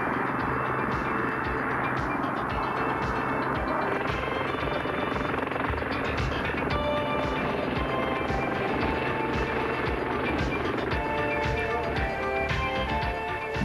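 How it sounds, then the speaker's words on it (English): A Sea King helicopter flies alongside a warship during in-flight refueling, its rotor and turbine noise a loud, dense, continuous roar with a faint rhythmic chop throughout. "The helicopter simply cruises along beside a friendly warship, taking on a fresh supply of jet fuel."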